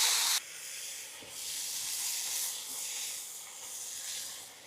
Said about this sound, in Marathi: त्याच्यामध्ये आपण चांगल्या प्रकारे तिला फ्राय करून घेणार आहे।